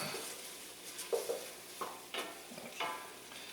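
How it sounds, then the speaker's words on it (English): Quiet sizzling of bean soup ingredients in a hot pot, with a few soft scrapes and clinks of stirring now and then, close by and without speech. "it's sizzling pretty darn good in here"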